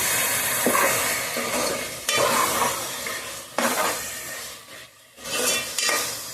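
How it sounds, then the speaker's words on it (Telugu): Chicken pieces stirred in a hot pan for a Telugu-style chicken curry, with steady sizzling and frying under repeated scraping sweeps of a spoon, close and fairly loud, no talking. "చికెన్ అయితే ఇందులో వేస్తున్నానండి వేసి బాగా ఇలా కలుపుకోవాలి"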